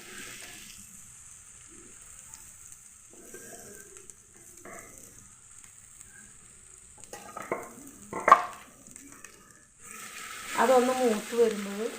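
Ginger garlic paste fries in hot coconut oil, giving a soft steady sizzle with stirring scrapes and a louder burst of frying near the end, with no talk over it.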